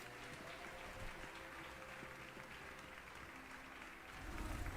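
Students applaud a newly sorted Slytherin in the Hogwarts Legacy video game, a dense, steady crowd clapping that holds throughout and swells slightly louder at the end.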